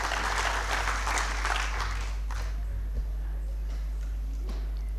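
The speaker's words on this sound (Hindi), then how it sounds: "सभी के लिए जोरदार तालियां" Audience at a bank officers' association meeting applauding visiting colleagues, a dense burst of clapping that is loud at first and then thins and fades, heard over a steady low hum.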